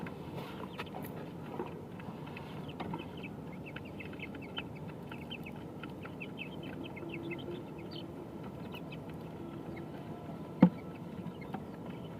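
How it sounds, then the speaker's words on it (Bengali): Chickens clucking in a coop area, a scatter of short, fairly faint clucks and chirps spread across the whole stretch, with one sharp knock near the end and no talk. "এটা কি মুরগি?"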